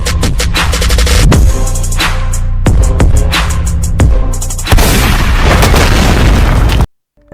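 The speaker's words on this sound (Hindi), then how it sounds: "अभी तो मैंने पैर पे गोली मारी है, अगली बार भेजा खोल दूंगा" Gunfire in a Hindi short film comes as several loud, booming shots spaced a second or so apart over a dense, roaring sound bed, then cuts abruptly to silence.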